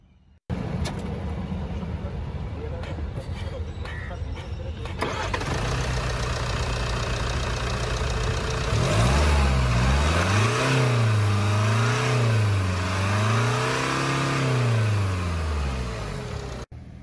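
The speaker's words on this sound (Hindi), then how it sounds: "तो ये था 2000 सीसी इंजीनियम डीजल" A Land Rover Discovery Sport R-Dynamic SE with a 2.0-litre Ingenium diesel engine starts up, settles into a steady close idle, then revs repeatedly, its drone rising and falling in rolling swells.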